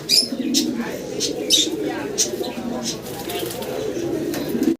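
A pair of American lark pigeons cooing, soft repeated coos and chirps close by, with someone talking over them.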